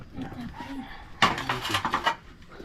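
Food being scooped and scraped into a pot, with a sudden burst of metal utensils and dishes clattering in a short rapid series after a quiet, murmuring start.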